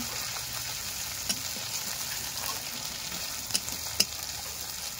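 Spice paste sizzling and crackling in hot oil over a wood fire while being stirred for a banana flower and rohu fish head dish, a steady close frying hiss with a few sharp pops.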